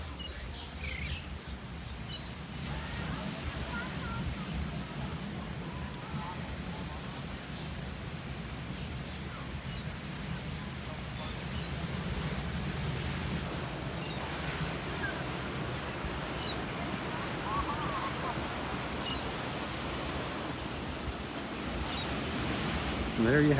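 Waves at the beach at Lowdermilk Park in Naples, Florida, a continuous soft wash of surf with faint bird chirps scattered through it, steady and moderately distant.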